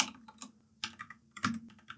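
Light typing on a computer keyboard, a handful of quick irregular key clicks in small bursts, close and fairly quiet.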